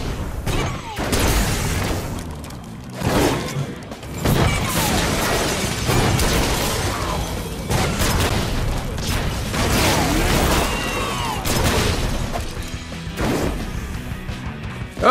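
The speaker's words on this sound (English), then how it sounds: "Explosions never miss." Loud, dense explosions and crashing blasts in the video game Sunset Overdrive burst repeatedly over a continuous roar of action, with a voice talking in places.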